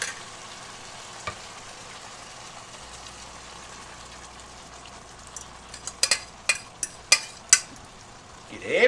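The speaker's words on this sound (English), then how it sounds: "So we're going to add the eggs in." Eggs poured into a hot frying pan for spicy keto eggs give a soft, steady sizzle, then a run of sharp utensil clinks and scrapes against the pan near the end.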